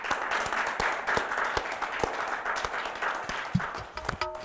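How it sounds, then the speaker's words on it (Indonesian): Studio audience applauds during an Indonesian talk show, a patter of scattered clapping with a few sharp close claps, fairly light and steady throughout. "Boleh tepuk tangan dong"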